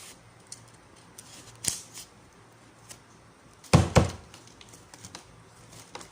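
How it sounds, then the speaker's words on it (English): Scissors snip paper while making a paper star craft for kids, a few quiet scattered cuts followed by a louder crunching burst of snips midway, close and without speech. "Cut it like this"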